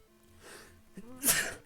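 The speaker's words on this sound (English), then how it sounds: "Oh, I'm sneezing." A single sharp sneeze bursts out after a brief inhale, loud and close, with faint murmuring before it.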